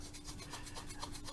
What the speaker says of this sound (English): I'm not having too much success on rubbing this